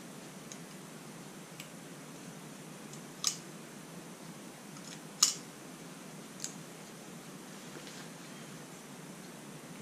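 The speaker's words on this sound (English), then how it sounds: "A pair of regular old teeny tiny scissors from my stuff." A few faint, sharp metallic clicks sound sparsely against a quiet background, like small scissors being handled and snipped.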